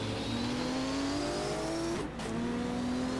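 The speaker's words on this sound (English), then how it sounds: "That characteristic Porsche sound" A 1978 Porsche race car engine coming off the final corner at the Mainz-Finthen airfield circuit, a loud sustained high-revving howl rising in pitch, briefly dipping at a gear change before climbing again, with no talk.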